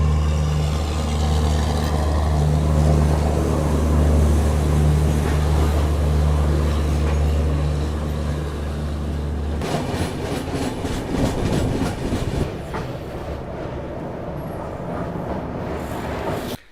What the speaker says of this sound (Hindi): और ये सामने खड़ी है अवध आसाम एक्सप्रेस।